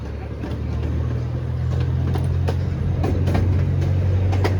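A steady, loud rumble of a small amusement park train ride rolling along with rhythmic clacks, no talking.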